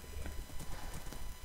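Horse hooves in the Minecraft video game, a quick run of light clip-clop steps at a steady trotting pace, heard alone and fairly faint.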